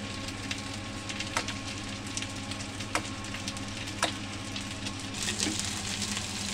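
Hot oil sizzles steadily in a heated wok for a village-style chela fish curry, a continuous close frying hiss with a few sharper crackles and no talking.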